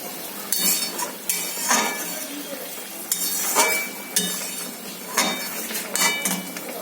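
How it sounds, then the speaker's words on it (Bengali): A spoon scrapes and clinks against a metal pot as curry is stirred after hot water is added. The stirring comes in repeated short bursts of scraping with gentle bubbling between them, close up and without talk. "ভালো করে নেড়ে চেড়ে দেবো।"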